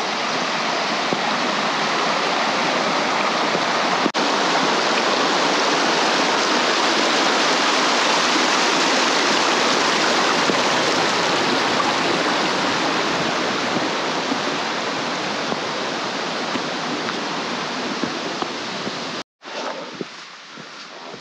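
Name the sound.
icy mountain stream flowing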